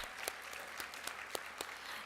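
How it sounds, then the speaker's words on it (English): Audience applause for hotel staff, union members, at an economic justice conference: steady dense clapping throughout, with a few sharper individual claps standing out, no voices. "another round of applause for the hardworking people at this hotel"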